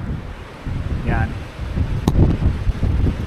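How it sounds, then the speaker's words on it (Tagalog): Strong wind roars and buffets the microphone in low, gusty bursts at a cold mountain campsite in Bokod, Benguet, with a brief sharp knock partway through. "Grabe lakas ang hangin."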